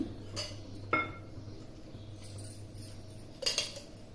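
A kadai pan set down on a stove to cook egg rice, giving a couple of faint metallic clinks and knocks near the start and again toward the end, close by and with no talk.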